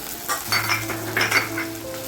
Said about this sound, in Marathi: आता मी याच्यामध्ये मिरची पण चांगली परतून घेतली आहे